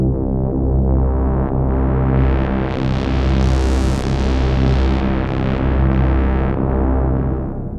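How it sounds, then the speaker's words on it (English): Guitar played through a reverb pedal with pitch modulation that adds an octave below, giving a dense, sustained, shimmering wash of chorused, distorted tone that swells steadily and loudly with no talking. "So we've got different types of pitch modulation for this reverb."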